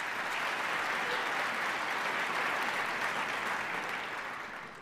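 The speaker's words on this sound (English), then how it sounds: "Let's give her a round of applause." Awards ceremony crowd applauding a student-athlete scholar, a full, steady roar of many hands clapping that holds strong and then fades slightly at the end.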